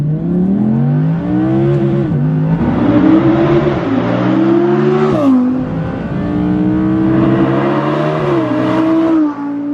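An Audi R8 V10 Performance engine with a particulate filter revs loudly and alone, climbing and falling in pitch through several throttle blips, with a sharp rise near the middle.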